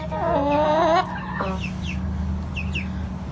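Chickens cluck in a loud run of calls at the start, then softer scattered clucks and chirps follow over a steady low background hum.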